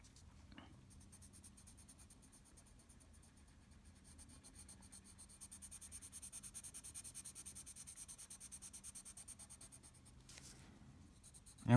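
A Prismacolor colorless blender pencil rubs over layered colored pencil on paper while blending a flower drawing. Faint close scratching builds into a steady, rhythmic back-and-forth rubbing, with no voice.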